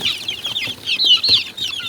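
Domestic chickens kept in a small space cluck close by in a steady run of short, overlapping calls with no talking.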